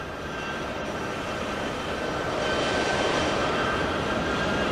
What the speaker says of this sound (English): That's the latest US aircraft arriving